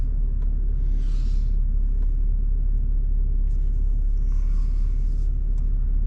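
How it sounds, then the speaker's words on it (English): A car on a road by a large rural property, heard as a steady, continuous low rumble of passing traffic throughout, with no one speaking. "Waiting on this car."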